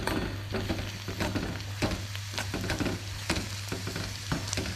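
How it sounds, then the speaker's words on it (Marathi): Chopped onions frying in a pan while being stirred: a continuous sizzle broken by repeated scraping and clattering strokes of a spoon, close and fairly loud. "कांदा आपल्याला चांगला परतून द्यायचा आहे"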